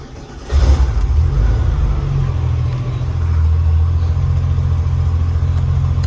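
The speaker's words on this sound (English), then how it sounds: "I just start up the engine. It's gonna get a little bit noisy." A Porsche Targa engine turns over and starts, then settles into a steady, loud, low idle rumble that continues to the end.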